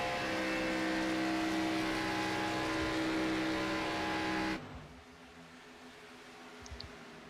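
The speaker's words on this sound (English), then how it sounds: "A Handful of other cars coming down pit road here." Stock cars in the iRacing game roll down pit road at Daytona International Speedway, a steady loud engine drone with a high whine that cuts off abruptly partway, leaving a low quiet rumble afterward.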